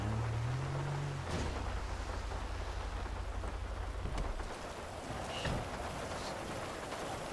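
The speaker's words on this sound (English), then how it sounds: "It's raining." Steady rain falls as a continuous, even hiss with scattered drops and a low rumble underneath, close and sustained for several seconds with no talking.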